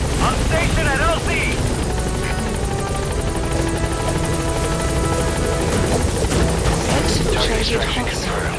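A support helicopter in Metal Gear Solid V arrives at a landing zone, its rotor thudding loudly and steadily throughout, with game voices and mission chatter layered over it.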